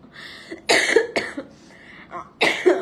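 Several harsh coughs in short bursts, close to the mic, with brief pauses between them and a final loud cough at the end.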